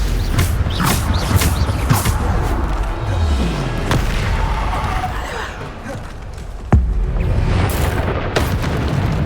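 Bombarda spell blasts in Hogwarts Legacy, loud booming explosions repeating at close range amid crackling combat effects, with one sharp burst standing out near the end.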